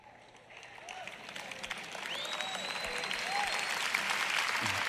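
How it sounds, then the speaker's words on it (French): Applause from a church audience during a sermon by Joyce Meyer starts thin and quiet, then swells steadily into fuller clapping with a few voices mixed in. "Ces applaudissements ont commencé plutôt faibles."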